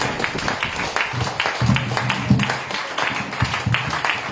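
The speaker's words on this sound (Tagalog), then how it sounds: "Sa pangmalakas na palakpak natin, Panginoon." A church congregation claps in a steady, moderately loud wash of applause lasting a few seconds, with voices faintly mixed beneath the clapping.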